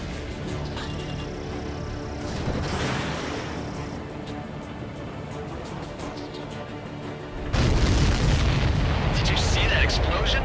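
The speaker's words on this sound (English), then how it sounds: "Did you see that explosion?" Ace Combat 7: Skies Unknown aerial battle: explosions and booms rumble amid battle noise, ending with a loud, heavy blast near the close.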